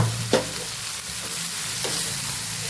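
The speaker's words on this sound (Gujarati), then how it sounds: "આપણે મસાલાને સાતળી લેવાનું છે" Spices sautéing in a pan for a half-cooked carrot, cabbage and tomato sambharo, heard as a steady close sizzle with a couple of brief stirring scrapes and no voices.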